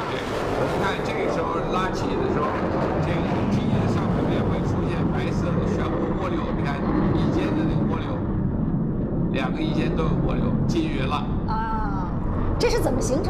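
A military jet roars low overhead at Airshow China's public open day, a steady broadband rumble that stays loud and unbroken while commentators talk over it throughout.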